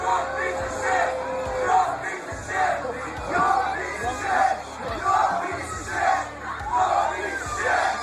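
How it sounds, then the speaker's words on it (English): A concert crowd at a show chants in rhythmic, repeated surges of shouting in disapproval of the drunk frontman, loud massed voices rising and falling over a low stage hum. "defiantly reveling in their chants of disapproval as he slurred through his words"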